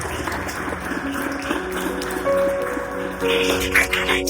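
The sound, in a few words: congregation applauding in church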